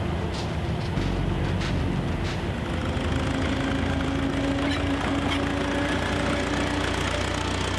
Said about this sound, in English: Running past the camera is the First World War narrow gauge engine, followed by Palmerston.